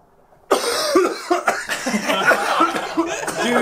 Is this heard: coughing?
yes